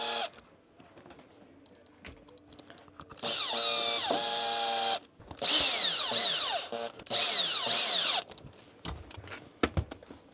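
A power drill snugs screws into replacement ski boot soles, three loud, close whirring bursts of one to two seconds each, separated by clicks and handling noises.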